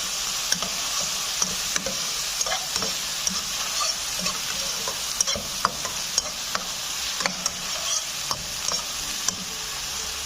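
Cloves, green chilies and turmeric frying in a pan for aloo tahari, a constant loud sizzle punctuated by regular light ticks and pops of stirring, close up with no speech.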